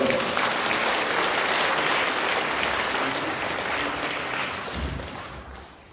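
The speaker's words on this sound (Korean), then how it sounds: "박수 한번 해주시기 바랍니다." Enthusiastic applause from a crowd at a church concert, dense and steady at first, then gradually tapering off.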